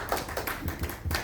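Audience applause at a year-end civil society forum: a short burst of hand clapping from a gathered crowd, fairly faint and without voices.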